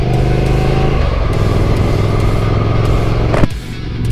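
A car on a quick Sunday drive, with a steady engine drone and road rumble throughout, loud and close from inside, with a brief thump near the end before the hum continues.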